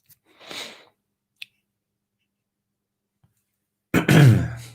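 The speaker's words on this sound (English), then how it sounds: "I can't stop coughing." A single close throat-clearing cough, a short pause with a faint click, then a louder harsh cough.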